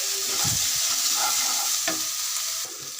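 Cumin and garlic paste stirred in a hot frying pan, a continuous sizzle with a few scraping strokes of the spoon, close and fairly loud, no voices.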